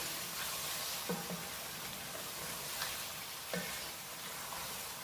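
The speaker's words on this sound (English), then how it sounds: "I'm going to cook it on high heat now, and I'm just going to add some tomatoes." Chopped tomatoes frying with mutton and cauliflower in a pan over high heat, a steady low sizzle with a few soft stirring knocks, no talking.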